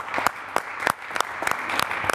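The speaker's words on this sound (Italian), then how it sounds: "ti meriti un applauso" Applause from a small group, a ragged patter of clapping with distinct louder hand claps spread evenly through.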